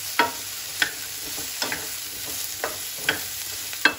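Red and yellow bell peppers with other vegetables stir-frying in a hot pan for a garlic sauce dish, a steady close sizzle punctuated by several sharp spatula clacks spaced about every second, with no talking.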